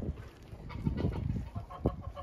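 Several chickens cluck at a backyard farm, a steady stream of soft, close clucks with a few louder squawks rising out of the flock.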